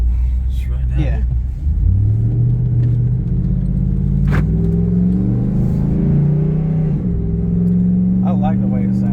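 A cammed 6.4 Hemi Ram 2500 truck with an FRP Hellfire 2.0 camshaft rumbles loudly close by, its engine revving and settling in deep, choppy surges while people talk over it.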